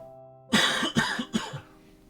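After a quiet moment, three sharp coughs come close together, loud and close to the microphone.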